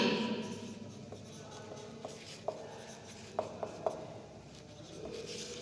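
Pen writing a name on paper, a faint, close scratching with a few small taps and strokes spaced irregularly across a quiet background.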